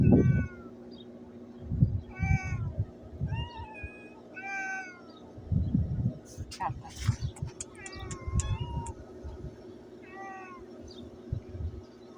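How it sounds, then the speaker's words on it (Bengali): Cats in a residential neighbourhood give a series of clear, drawn-out meows, one after another, some rising and falling in pitch, alongside low rumbling background noise and soft thumps. "কত সুন্দর বিড়াল"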